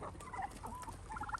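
Turkeys gobble faintly in the distance, a few short, warbling bursts over low ambient noise in a suburban permaculture yard.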